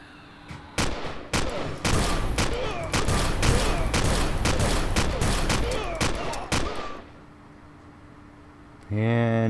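Rapid bursts of gunfire from the video game Empyrion, fought in a mine, crackle loudly and densely for several seconds before fading. A brief voice rises right at the end.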